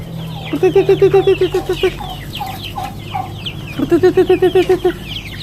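Backyard chickens, including a Rhode Island Red, cluck loudly and close by in two rapid bursts of repeated clucks, with softer chatter from the flock between them; no one speaks.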